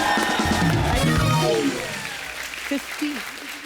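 A studio audience applauds and cheers for a veteran singer on a comedy talk show, and the clapping fades as a presenter speaks over it.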